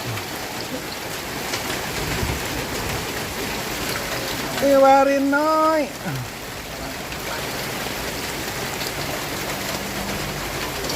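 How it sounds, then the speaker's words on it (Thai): Steady rain falls outdoors in a rural Isan kitchen setting, a constant broadband hiss throughout, while a voice speaks briefly in the middle. "ฝนตก"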